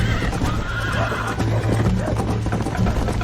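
A horse in the Red Dead Redemption video game neighs and whinnies loudly and close during a ride, with clip-clopping hooves and a steady low rumble beneath it for the whole stretch.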